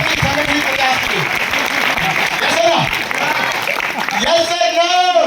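Audience clapping at a Safe Shop motivational seminar, a dense, continuous wash of applause with a voice speaking over it and a louder vocal passage at the end.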